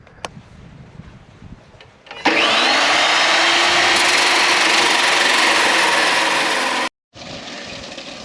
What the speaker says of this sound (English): I'm going to weld some pieces between the new leg and some of the supports here.